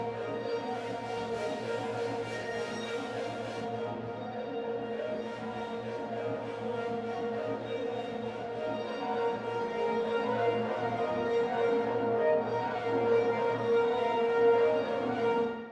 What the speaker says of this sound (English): So you can hear that this is a very ambient reverb.